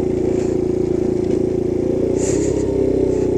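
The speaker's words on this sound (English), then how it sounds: "Gotta rely on my engine braking" A small pocket bike's engine drones steadily while engine braking, a close, buzzy low hum with a faint rattle, running evenly with no talk.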